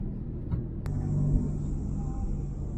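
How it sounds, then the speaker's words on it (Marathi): A car on the winding hill road toward Mahabaleshwar and Panchgani hums with a steady low engine rumble and a faint high whine, heard from inside the vehicle, quiet and continuous. "गाडी तर टर्निंगला हळू घ्यायची."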